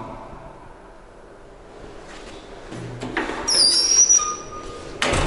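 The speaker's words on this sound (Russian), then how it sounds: "Дверь надо бы смазать." An unoiled door in an apartment bathroom squeaks open, a thin high-pitched creak sliding and wavering for about a second amid quiet room noise, followed by a short bump.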